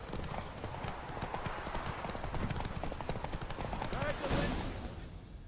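Roach, Geralt's horse in The Witcher 3, gallops through a race with rapid, steady hoofbeats close up, a dense drumming rhythm with a brief whinny-like swell near the end and speech faintly mixed in.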